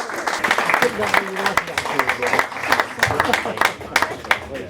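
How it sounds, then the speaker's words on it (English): A live quiz-show audience keeps up steady, dense applause for a contestant, the clapping continuous throughout while a voice talks over it. "Keep that applause going because I'm doing maths in my head."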